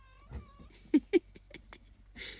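A house cat meows a few times from the background of a quiet room, short soft cries with a couple of louder ones, faint and somewhat distant.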